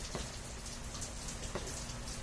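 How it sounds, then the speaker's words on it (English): Monsoon rain pours down outdoors as a steady, dense hiss of drops on surfaces, with no voices. "It's really raining"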